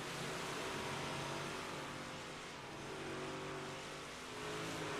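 Dirt 358 race cars roar around Eldora in iRacing, a dense, continuous engine drone with slight swells as the pack circles, loud and steady with no talk.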